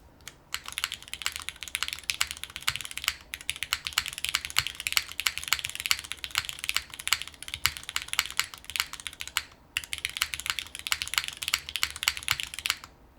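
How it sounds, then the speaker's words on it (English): Steady fast typing on a Syrin TKL mechanical keyboard, dense close-up clacks in continuous bursts with two brief pauses, no voices. "Really love the sound of this keyboard. This is a nice sounding board."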